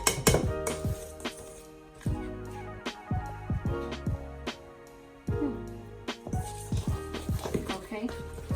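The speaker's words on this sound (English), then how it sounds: "we're going to stir all of this up" A spoon stirring dry vegan pizza dough ingredients in a mixing bowl: rapid, irregular clinks and scrapes with sharp ringing knocks, under some nearby talking.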